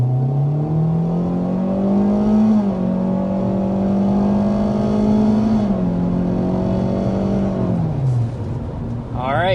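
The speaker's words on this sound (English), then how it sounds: "that was our acceleration to 60 miles per hour" A 2025 Kia K4 with a 1.5-liter turbo engine accelerating to 60 mph, its engine note rising steadily in pitch, dropping briefly at gear changes, then climbing again, loud and continuous from inside the cabin.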